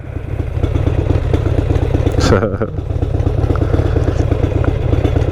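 A motorcycle engine rumbles steadily throughout, loud and close, with a brief clattering burst in the middle.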